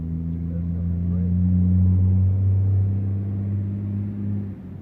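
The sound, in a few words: semi truck driving past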